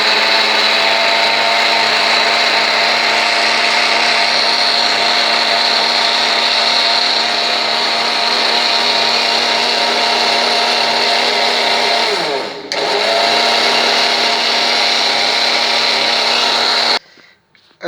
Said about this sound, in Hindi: ये आड़ू भी हमने ग्राइंडर में डाल दिया, तो चीनी भी होगी, काला नमक भी होगा